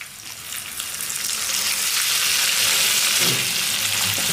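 Coriander-tomato chutney hits a hot tempering with asafoetida and curry leaves, setting off loud, building sizzling and frying close by with a little stirring.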